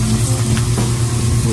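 Water runs from a tap at an outdoor shower and dish sink in a Florida regional park. The stream is steady and hissing, loud and close, with a low pump-like hum underneath.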